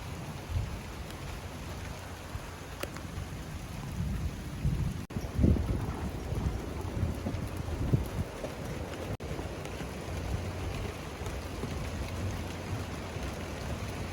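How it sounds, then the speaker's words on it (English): Steady rain hisses throughout while low rumbles of thunder roll underneath, with a couple of sharp crackles partway through. "There's some thunder, it's raining."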